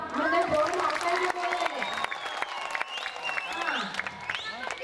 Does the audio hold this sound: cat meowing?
no